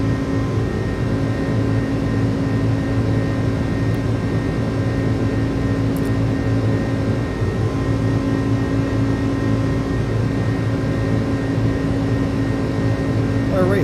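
Steady, loud engine drone of an iniBuilds A300 FedEx cargo jet climbing at climb power in Microsoft Flight Simulator, a constant whine and rumble throughout with no pauses.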